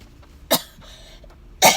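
Two short, sharp coughs from a person during an outdoor Bible reading in a parking lot, spaced about a second apart, close and alone.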